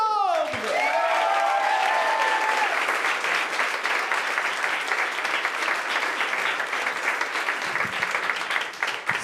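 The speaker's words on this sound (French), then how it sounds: "Un tonnerre d'applaudissements pour Benoît Hessiaud!" A comedy show crowd greets a comedian with a thick, sustained roar of clapping, a whistling whoop rising at the very start before steady applause fills the rest.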